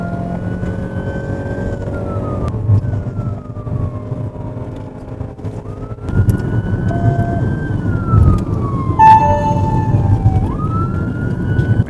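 A police car siren wails, rising and falling in long sweeps over a rumbling vehicle engine during a pursuit, fairly loud and close, with a second siren tone joining near the end.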